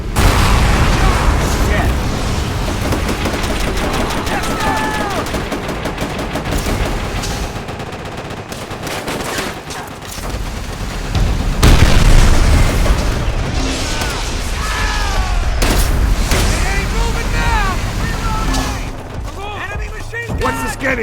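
Machine gun fire and explosions in Call of Duty: World at War, with dense, continuous gunfire bursts and heavy booms across a loud battlefield, alongside shouting voices and chatter throughout.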